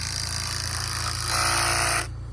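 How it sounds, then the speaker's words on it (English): A power drill whirs steadily for about two seconds, its pitch rising briefly as it drives a screw into a log gable, then cuts off. "Do you need a bigger drill?"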